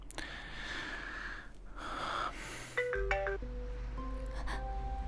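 A phone rings mid-call with a repeating electronic ringtone melody, fairly faint and close, following some breathy sounds.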